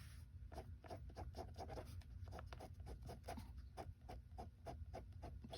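A pen strokes across paper while sketching a vehicle drawing, a soft rhythmic scratching of short repeated strokes, close and quiet.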